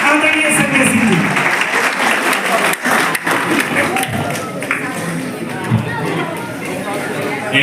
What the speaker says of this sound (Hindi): जोरदार ताली बजाइएगा आदरणीय संजय सिंह जी